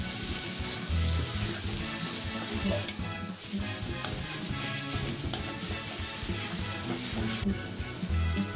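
Chilli-garlic thecha sautéing in a hot pan for Khandeshi brinjal bharit, a steady close sizzle with continuous stirring and occasional spoon scrapes throughout.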